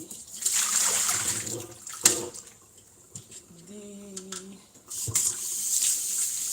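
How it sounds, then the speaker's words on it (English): Tap water runs steadily into a sink while someone washes their hands, a loud hiss that stops briefly in the middle with a short tonal squeak before the flow resumes, with no talking. "So I'm gonna wash my hands."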